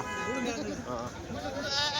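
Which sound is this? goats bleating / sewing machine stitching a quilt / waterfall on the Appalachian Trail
goats bleating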